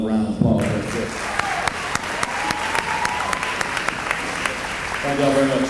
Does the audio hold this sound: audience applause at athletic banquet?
yes